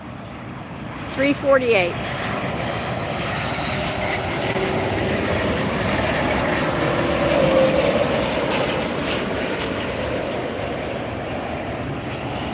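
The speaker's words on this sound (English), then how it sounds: "This is coming in from Vancouver, a 737 MAX, United Airlines" A United Airlines Boeing 737 MAX jet landing at LAX, a broad engine roar swelling and holding loud after a brief spoken remark at the start.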